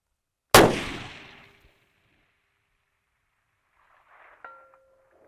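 A 6 Creedmoor rifle fires once with a sharp, loud crack that decays over about a second, and after a few seconds of quiet a faint, distant metallic ring sounds as the bullet strikes a steel target at 1000 yards.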